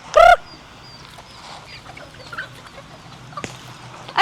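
Chickens at feeding time on a farm, with loud near clucks and squawks at the start and end and softer scattered bird calls and clucking in between.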